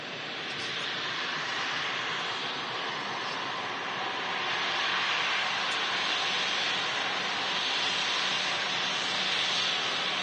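Steady broadband engine roar from an airplane at Manchester Airport, a continuous loud rumble and hiss holding level for the whole stretch with no voices, like a jet taxiing or climbing nearby.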